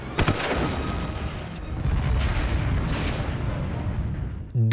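Explosion in a film, a sharp burst followed by rumbling booms and debris noise, loud and close, ending with a brief tonal sound.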